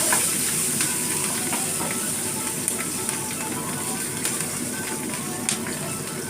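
Peppers frying in a pan with very little oil give a steady, close sizzle and hiss, with occasional small pops and crackles, and no talking.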